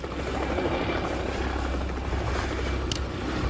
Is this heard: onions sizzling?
no